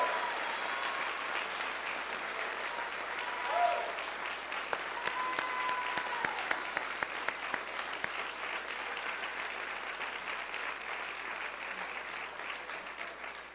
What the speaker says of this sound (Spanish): Si se lo va a dar aplauso, déselo bien fuerte, bien fuerte, bien fuerte,